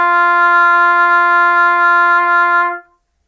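A trumpet sustains one steady, resonant note for nearly three seconds, loud and close with a clean centered tone and no talking, then cuts off.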